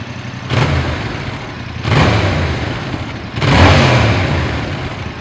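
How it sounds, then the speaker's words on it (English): A Yamaha R7 motorcycle with its stock exhaust revs three times in close succession, each rise a deep, fairly muted rumble nearby that settles back between blips. "that's the sound of the exhaust"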